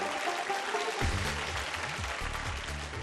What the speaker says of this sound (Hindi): बहुत बहुत तालियां इनको।